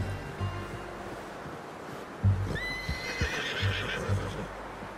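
A horse in Red Dead Redemption 2 lets out a high, wavering whinny midway, over the muffled thud of hooves and a low outdoor rumble.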